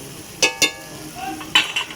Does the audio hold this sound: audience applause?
no